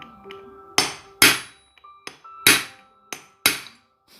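Six sharp metallic hammer taps ring out at uneven intervals while a Honda Tiger motorcycle clutch is fitted, each strike close and bright with a short decay.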